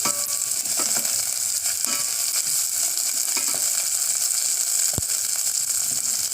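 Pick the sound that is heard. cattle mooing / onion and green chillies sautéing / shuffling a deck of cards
onion and green chillies sautéing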